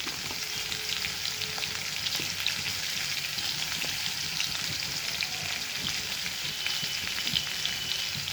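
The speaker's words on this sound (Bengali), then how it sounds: "এবার কালো জিরে দিয়ে আলুগুলো ভাজা ভাজা করতে হবে।" Potatoes fry with black cumin in a pan, a steady close sizzle and crackle with scattered pops and occasional stirring scrapes, no talk.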